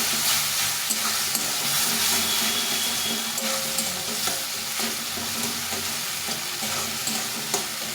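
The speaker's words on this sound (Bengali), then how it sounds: "এটা দিয়ে সম্পূর্ণ এটাকে ভালোভাবে কষে নিতে হবে" Soybean chunks sauté with ginger-garlic paste in a pan, with a continuous sizzle and repeated scraping stirs running loud and close.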